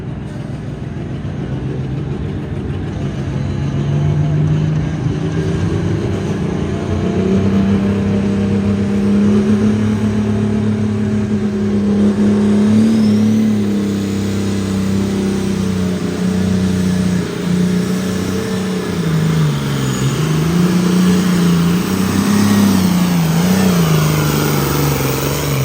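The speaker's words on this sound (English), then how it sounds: "The Possessed tractor, driven by Bill Heineck out of Eddyville, Iowa, next to give it a shot." Possessed pulling tractor, driven by Bill Heineck, roaring under full throttle at a county fair truck and tractor pull. The loud, sustained engine howl holds steady, then dips and surges near the end.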